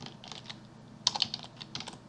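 Java code being typed on a computer keyboard, a quick patter of close, light key clicks in short bursts, with one sharper cluster of strikes midway, alone without talk.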